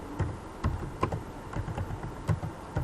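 Soft, quiet clicking of a computer keyboard while a form description is typed, with irregular keystrokes tapping at an easy pace, close by and alone.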